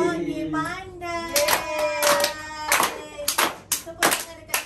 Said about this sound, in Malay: Tepuk tangan dekat sendiri.